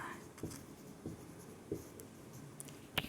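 Pen or marker strokes scratch across paper while dimensions are written onto an RCC T-beam drawing, with short separate scribbles and faint taps close by in a quiet room.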